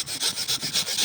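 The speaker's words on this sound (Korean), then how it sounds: "이렇게 두 개의 큰 가지를 잘라냈습니다." A saw working through a persimmon tree branch during pruning, close and loud, with rapid rhythmic rasping strokes about five per second in a brief burst, no voices.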